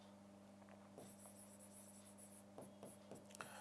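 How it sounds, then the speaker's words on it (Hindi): Chalk or marker writing on a board during a classroom grammar lesson, a faint scratchy scraping that comes in short strokes over steady room hum, no voice. "अच्छा, एक एग्जांपल और लिखते हैं यहाँ पे."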